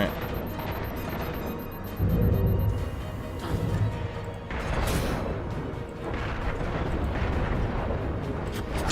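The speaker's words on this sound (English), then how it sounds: "No wonder I fucking blew up." An explosion kills the player in Halo 4: a loud, dense roar and crash of blast noise that swells and rumbles on for several seconds amid game effects, close and dominant.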